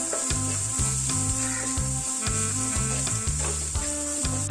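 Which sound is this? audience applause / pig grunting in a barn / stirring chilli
stirring chilli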